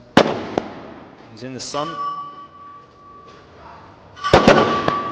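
Sniper rifle shots at targets during a SWAT team challenge event outdoors, with sharp reports near the start and a louder cluster near the end, heard under a commentator speaking over the range.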